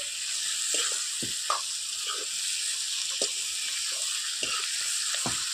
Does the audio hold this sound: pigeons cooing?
no